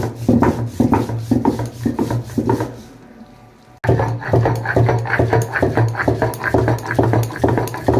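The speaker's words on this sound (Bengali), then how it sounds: "এই দেখুন আমি সর্ষাটা বাটছি" Mustard seeds are ground with green chilli and salt on a stone in a home kitchen, giving loud, close, rhythmic rasping strokes that pause briefly midway and then resume at a steady pace.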